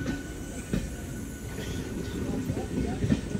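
A train at Ramnagar station gives off a continuous rumble with rhythmic clacks and some metallic squeal, heard from close by. Faint voices murmur in the background.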